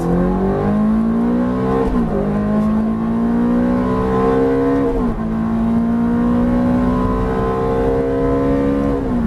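A race car on a circuit accelerates at full throttle, its engine note climbing loudly through the gears with brief dips at each shift, close and continuous throughout.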